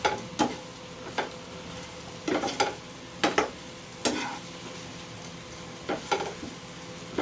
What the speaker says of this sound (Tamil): ஃப்ரை ஆகணும்டா, அது நல்லா கருப்பாகணும்.